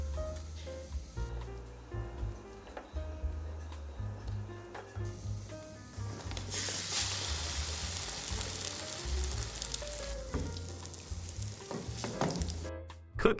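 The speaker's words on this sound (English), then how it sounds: "Place the coated toast in the pan." Egg-coated toast slices fry in oil in a pan, a soft steady sizzle that swells louder midway with faint clinks and crackles, fairly quiet overall.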